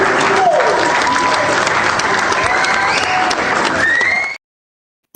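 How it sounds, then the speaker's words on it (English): Studio audience clapping in a dense, steady burst with faint voices and tones under it, then cutting off abruptly near the end. "we're going to clap it"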